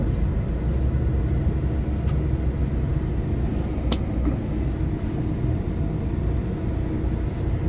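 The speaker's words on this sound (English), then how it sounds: "So while I'm here driving this truck," A white truck rolls along with a steady, loud low-pitched engine and road rumble filling the cab, continuous and unbroken, with a couple of faint clicks and no talking.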